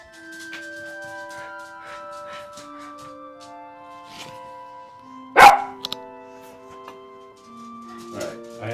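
Dogs bark once, sharp and fairly close, standing out over a quiet indoor room filled with steady electronic tones, followed by a few faint clicks.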